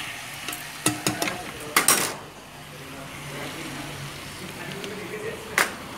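Spoon scraping and stirring a mango amchar mixture in a pan, with a few sharp clicks and scrapes early on, then a softer sizzle and occasional clatter, close and moderately loud.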